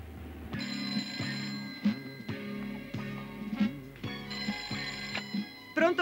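An old telephone rings in repeated bursts, each a buzzing double ring separated by short pauses, fairly close and clear, with faint background sound between rings.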